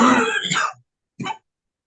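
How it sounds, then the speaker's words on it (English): A single harsh throat-clearing cough, like whooping cough, followed after a short pause by a brief second rasp, close and fairly loud. "Somebody got the whooping cough."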